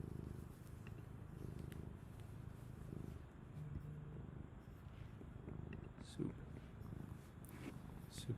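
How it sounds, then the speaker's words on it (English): A cat purring close by indoors, a low continuous rumbling throb that runs steadily under faint background talk and small rustling. "I don't know if you could hear my cat right now in the background."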